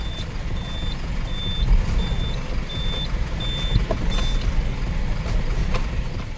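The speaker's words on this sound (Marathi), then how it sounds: "आपण आता बघा गाडी पार्किंगला लावून ठेवूया" A truck backs into a parking spot beside a village office, its reversing alarm beeping steadily at an even pace over a loud diesel engine rumble.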